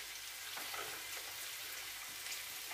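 Garlic sizzling in hot oil in a pan for a Filipino-style chicken curry, a steady close, hissing fry with faint stirring scrapes and no talk.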